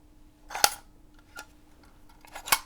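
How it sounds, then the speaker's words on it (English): An old camera's shutter fires three separate times, each a short crisp click with a spring snap, spaced irregularly across a quiet background as the speed setting changes between releases. "Okay, so now we'll fire it in this position. Note the speed."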